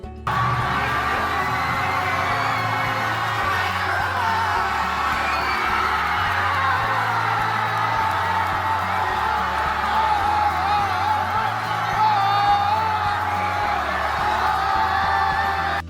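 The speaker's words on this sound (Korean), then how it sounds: "베트남 현지에서는 엄청난 인파와 오토바이, 축제를 즐기는 함성 소리로 나라 전체가 흥분의 열기로 불타오르고 있습니다." Huge crowds roar, whoop and cheer continuously in the streets of Vietnam after the national football team's 2024 Mitsubishi Electric Cup victory, a dense, loud wall of shouting voices with steady low rumble beneath.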